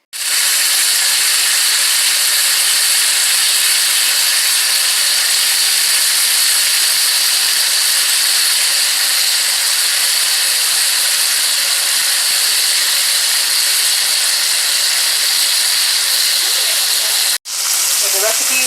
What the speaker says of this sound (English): just sear it until it's brown in the skillet